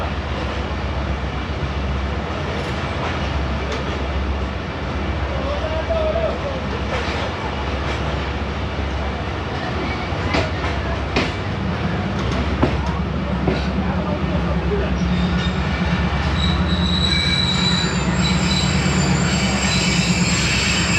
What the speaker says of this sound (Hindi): 2 मिनट स्टॉप करने के बाद डिपार्चर हो गया 2 डाउन खैबर मेल का लाहौर कैंट रेलवे स्टेशन से